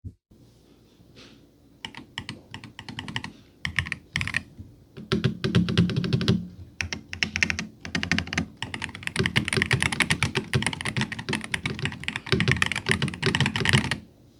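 Fingers type on an Aula WIN68 Max magnetic keyboard with light linear keys, starting in sparse bursts and then building to a dense, continuous, close clatter of keystrokes.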